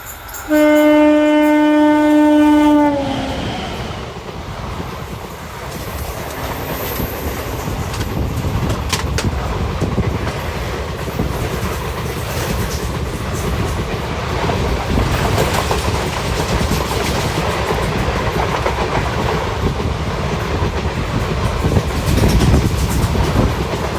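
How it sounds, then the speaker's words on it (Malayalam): Kottayam–Kacheguda Sabarimala special train passing on a crossing track, opening with a loud horn blast, then a long close rumble and clatter of wheels and carriages rushing past continuously. "അത് കോട്ടയം കാച്ചിഗുഡ സ്പെഷ്യൽ ട്രെയിനായിരുന്നു, ശബരിമല സ്പെഷ്യൽ. അതാണ് ഇപ്പോൾ നമ്മളിവിടെ ക്രോസിങ് ചെയ്തത്."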